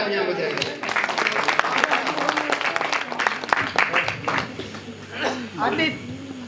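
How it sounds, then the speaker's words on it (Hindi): A crowd at a Hindi kavi sammelan poetry gathering breaks into sustained, dense applause for a poet, steady clapping filling the room with a few chuckles and voices mixed in toward the end. "जोरदार तालियां बजाइए"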